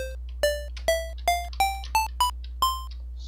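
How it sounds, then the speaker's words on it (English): A Sega PSG SN76489AN sound chip producing square wave tones: a sequence of about eight short, buzzy beeping notes stepping upward in pitch, each with a sharp onset and quick fade, over a low steady hum. "if you want to know what a square wave sounds like, it pretty much sounds like this"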